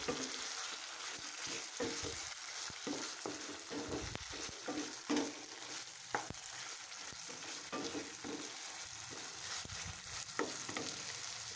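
Ghee and garam masala being stirred into a pointed gourd (potol) malai curry, a steady close sizzle of frying with repeated scraping strokes of the spoon through the pan, no voices.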